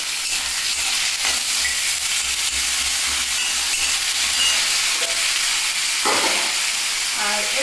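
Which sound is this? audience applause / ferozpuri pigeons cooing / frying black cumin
frying black cumin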